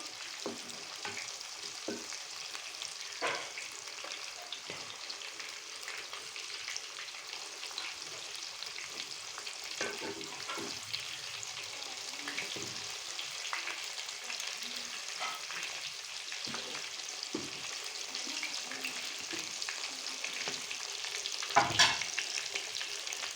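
Chicken pakora bubbles and crackles steadily in very hot ghee, a continuous fine sizzle at moderate distance with occasional small pops and a brief louder clatter near the end.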